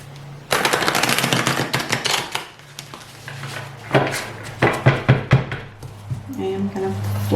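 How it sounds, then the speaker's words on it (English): A deck of tarot cards is shuffled in quick, rattling bursts of rapid card flutters and knocks, with softer taps between them and some voice in the background. "let's take these and give them one good shuffle"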